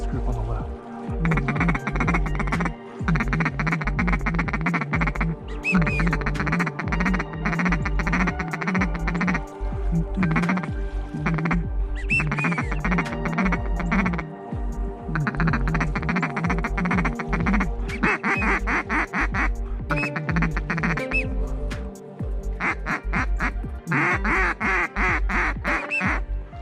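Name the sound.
teal ducks quacking at a hunting spot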